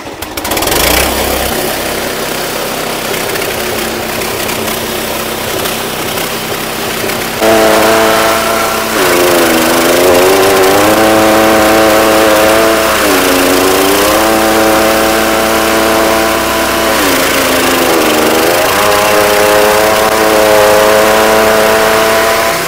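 A small engine-powered fodder and flour grinding machine runs loudly and continuously at close range, a steady engine drone that deepens into a heavier, wavering grinding hum partway through, with no voices.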